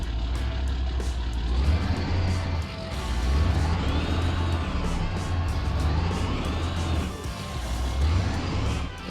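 Simulated Nissan GQ Patrol off-roader with reduction gearing grinding steadily uphill on a mountain trail in BeamNG, a continuous low engine drone with rumbling and faint whining throughout.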